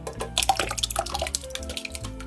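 Canned crushed tomatoes poured into a crock pot for pasta sauce, giving thick wet plops and dribbles at close range with a few light knocks against the pot.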